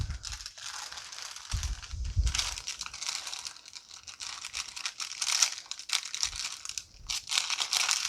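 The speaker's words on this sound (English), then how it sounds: "And then to peel off this part of the parchment paper." Crinkly parchment paper tearing and crackling as it is peeled off a cake roll, in irregular bursts, close by, with brief quiet pauses between the rustles.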